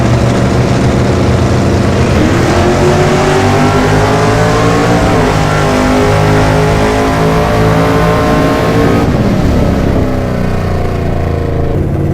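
A bracket drag race car accelerates down the track at a racing venue, its engine a loud, continuous roar climbing through the gears close to the listener.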